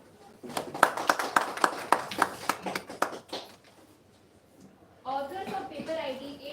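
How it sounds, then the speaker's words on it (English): Sparse clapping from a conference audience at an awards moment, a run of distinct hand claps over about three seconds, then it fades, followed by a voice speaking. "Let's give a big round of applause."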